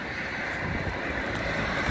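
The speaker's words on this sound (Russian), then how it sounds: "Тут ветер такой" Wind blowing outdoors, a constant low roaring rush buffeting the microphone with steady broadband noise and no talk over it.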